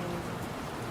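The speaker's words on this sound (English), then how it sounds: "막 비가 옵니다, 여러분들." Rain falling outside, a steady even patter and hiss filling the short moment, close and continuous with no voice over it.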